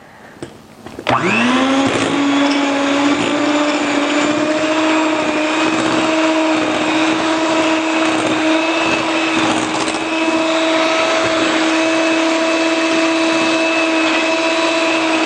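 A food processor whirs steadily as it blends chocolate black bean torte batter, starting abruptly after a short quiet moment and then running loud and even with a sustained motor whine to the end.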